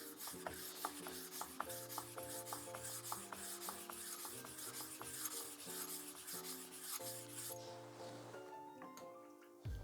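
A kitchen knife blade rubs and rasps in repeated back-and-forth strokes on a water stone during mirror polishing, quiet and steady beneath sustained background music tones.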